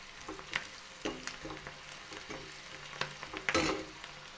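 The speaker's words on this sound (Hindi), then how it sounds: "अब मसाले को अच्छी तरह से भूनना है।" Spice masala for a mustard-greens and potato dish fries in a pan while being stirred, giving soft sizzling with irregular scraping strokes and clinks, one louder scrape near the end, close and without talk.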